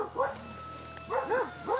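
A dog barks repeatedly near a house by a coca plantation: a pair of sharp woofs, a pause, then three more in quick succession, fairly close and clear.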